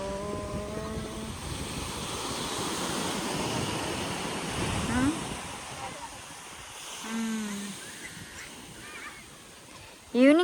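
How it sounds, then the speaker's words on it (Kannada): Surf washes steadily along an evening beach with wind buffeting the microphone, a broad continuous rush rising and falling, while voices and brief birdlike calls come through in the background. "ಒಂದು ರೌಂಡ್ ಫುಲ್ ಬೀಚ್ ತೋರಿಸ್ತೀನಿ"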